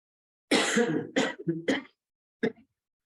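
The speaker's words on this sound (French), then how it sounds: "je tousse beaucoup" A woman with bronchitis coughs several times in a quick cluster, harsh and close, followed after a pause by one shorter cough.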